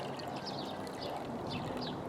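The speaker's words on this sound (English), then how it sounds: "on the first pan I generally like to pour it out" Water being poured out of a gold pan while hand panning micro fine gold, a steady, continuous splashing pour heard close up with no voices.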